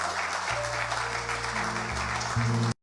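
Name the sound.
audience applause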